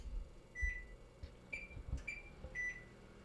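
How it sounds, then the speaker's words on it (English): A kitchen timer is set for baking pizza, giving four short electronic beeps spaced about a second apart, faint and close, among soft clicks and handling noises. "I'm going to set my timer for 20 minutes."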